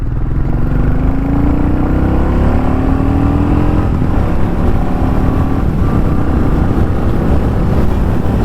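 A 2025 Royal Enfield Goan Classic 350 cruising at around 80 km/h, a loud steady engine drone mixed with heavy wind rush, its tone rising slightly, and no voices.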